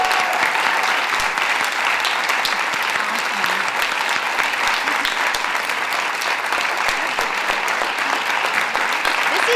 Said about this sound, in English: we got to do like a big round of applause